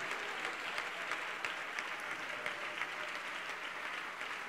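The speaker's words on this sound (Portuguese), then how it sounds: "Vamos aplaudir mais ao nome do Senhor Jesus." A church congregation claps together in sustained, dense applause that holds at an even level from start to finish, with no voices rising above it.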